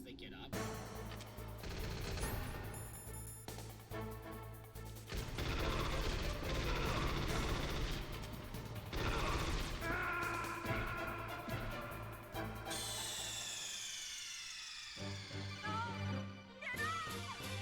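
Gunfire and clanking mechanical effects from the Metal Gear Solid video game, with shots against a dense layer of game music and noise, under a person talking.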